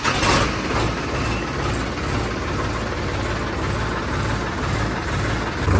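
A farm water-pump motor runs with a steady, heavy mechanical drone and low engine rumble, continuous and fairly loud throughout, with no pauses.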